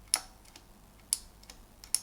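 Three separate clicky keystrokes on a black and white iQunix S87 mechanical keyboard, close and crisp, spaced about a second apart with quiet between them.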